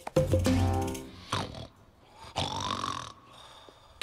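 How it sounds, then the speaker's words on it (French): Loud, rough snoring from a large sleeping animal in a French children's cartoon, a few long drawn-out breaths with rumbling and raspy textures, set against the cartoon's background sound. "Quel ronflement!"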